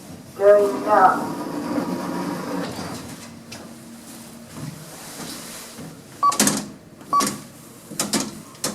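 A 1980s Kone hospital elevator travelling down: a steady low rumbling hum of the moving car, then a few sharp clunks and knocks toward the end, heard up close.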